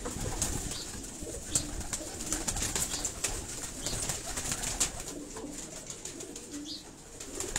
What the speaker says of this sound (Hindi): मैं कैमरा पे आपको कबूतर दिखा रहा हूँ